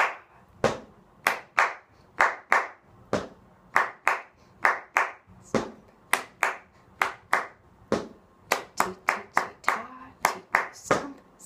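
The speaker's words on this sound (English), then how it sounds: "Now I clap." One person clapping a rhythm for a violin rhythm-and-blues lesson, about two dozen crisp, close claps in a steady counted pattern with short gaps, grouped in measures.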